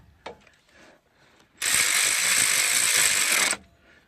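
A power tool snugs down a bracket on the axle of a Dodge 1500 pickup, a short whirring burst of about two seconds following a couple of faint clicks and handling noises.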